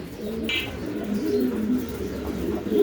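An Oriental male pigeon coos steadily up close, its low rolling calls running continuously with other pigeons faintly audible in the background.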